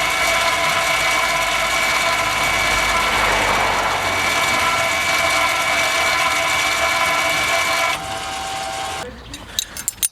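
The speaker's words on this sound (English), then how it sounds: "the parking brake has now been retracted using VCDS" Electric parking brake motor on a 2005-2011 VW Passat B6 whirring steadily as it retracts under diagnostic-software control, a loud continuous mechanical hum that stops abruptly near the end, followed by a few faint clicks.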